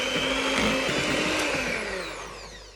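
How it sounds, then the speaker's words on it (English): An electric whisk churns margarine for cake batter with a close, loud motor whine that starts at full speed and then slowly fades over a couple of seconds. "We're going to mix it with the electric whisk."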